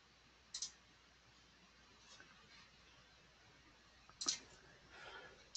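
Two sharp computer mouse clicks clicking an OK button, spaced a few seconds apart, close and quiet against a faint room hiss.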